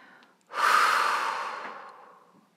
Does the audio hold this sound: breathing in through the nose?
yes